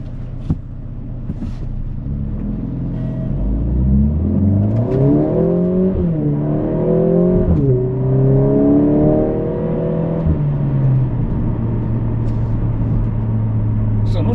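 A 2025 Mercedes-AMG CLA 45 S coupe accelerates hard in drag race mode, its engine note climbing through several rising gear pulls before settling into a steady cruising drone, with a voice talking faintly over it.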